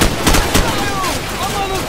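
Bursts of covering gunfire ring out in a Call of Duty Modern Warfare battle, with several sharp shots clustered at the start and then a rumbling combat backdrop.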